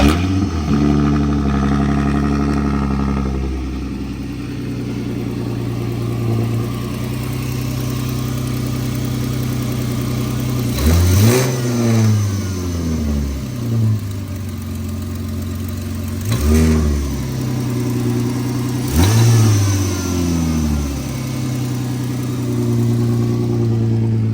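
A Ford Mustang engine idling, then revved in three distinct bursts that rise and fall back to idle, loud and close with no talk.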